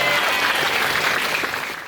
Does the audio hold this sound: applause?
yes